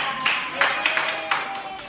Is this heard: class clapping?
yes